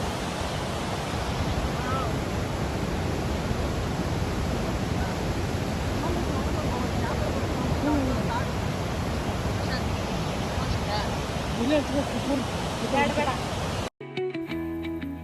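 Strong river water rushes steadily at the Mekedatu confluence near Bengaluru, a loud, continuous broadband roar that fills the scene, with a sudden cut and a brief different sound near the end.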